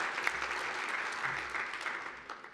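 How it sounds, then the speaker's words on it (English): An audience applauding at a political speaking event, a dense, even wash of many hands clapping that fades slightly toward the end. "So just give him a great round of applause for all the good work he does."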